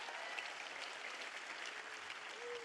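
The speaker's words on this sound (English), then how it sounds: "So please, another round of applause for Kalina Lawrence." An audience gives a round of applause for Kalina Lawrence at an evening event, a steady wash of clapping held at moderate, even level for a few seconds with no voices over it.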